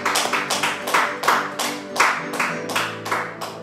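A church congregation claps and cheers during a Sunday worship service, a dense, rhythmic wash of hands beating in repeated swells, close and loud throughout.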